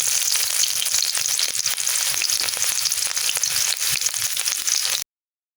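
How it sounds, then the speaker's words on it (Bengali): Chopped onion with cinnamon, cardamom and bay leaf fries in oil in a wok over low heat, giving a steady, dense, close sizzle with no talking before it cuts off abruptly. "কিছুক্ষণ লো আছে মশলা আর পেঁয়াজ ভেজে নিচ্ছি"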